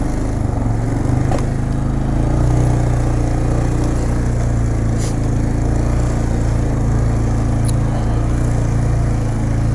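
A 2006 Polaris Sportsman 500 EFI ATV engine drones steadily and loud at low speed in low range, a close, continuous mid-pitched rumble while crawling over rocky, swampy trail ground.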